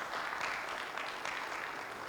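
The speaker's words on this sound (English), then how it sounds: "they deserve a clap. They deserve a clap." A conference audience claps in a soft, steady wash of many hands, heard from a distance with no voices over it.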